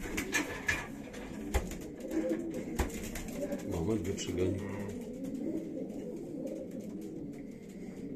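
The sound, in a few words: homing pigeons cooing, squabbling over territory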